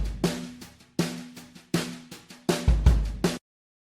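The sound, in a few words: drums soloed without compression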